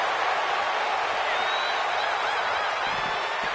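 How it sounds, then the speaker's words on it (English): A capacity arena crowd in the WWE 2K25 wrestling video game keeps up a steady, loud roar of cheering that fills the whole moment without a break. "do you hear this capacity crowd?"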